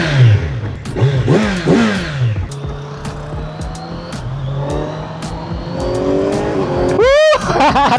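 A 2025 Kawasaki Z900 SE 900cc naked motorcycle accelerates hard nearby, its engine note climbing and dropping through several gear changes in a loud, continuous roar that ends with a sharp rising rev.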